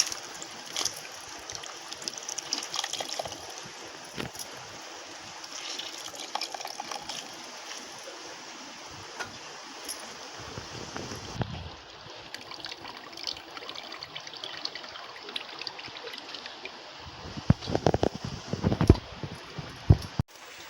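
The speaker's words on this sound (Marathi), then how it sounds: "परत आम्ही पाण्यामध्ये काढून असं धुवायचं, त्याला पिळायचं" Hands wash and squeeze chopped wild mushrooms in a bowl of water, making soft sloshing and trickling with intermittent splashes, louder and choppier near the end, with no talk.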